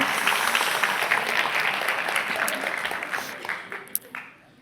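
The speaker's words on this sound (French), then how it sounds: "bravo, applaudissez-vous" Talk audience clapping for themselves after naming vegetables, a full burst of applause that gradually thins out with a few last scattered claps.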